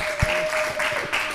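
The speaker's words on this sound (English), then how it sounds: "Let's have a round of applause again for Josh." A live audience gives a brief round of applause at a Christmas-themed talk show event, steady clapping over a constant hum with a couple of low thumps.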